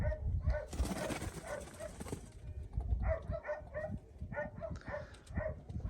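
Poultry coo and cluck in short repeated bursts at close range as winter nears, with a brief rush of noise early on and some low shuffling underneath.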